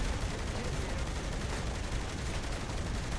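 Video game gunfire as a dense, continuous roar of rapid shots that fills the whole stretch at steady, fairly loud volume.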